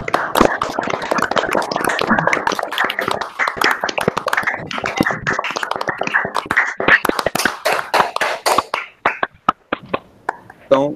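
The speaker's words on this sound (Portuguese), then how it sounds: "pedir novamente para que abram o áudio para aplaudirmos o André" Online seminar audience applauding the speaker after a lecture, a dense patter of many hands clapping through open microphones that thins into scattered individual claps toward the end, with no talking over it.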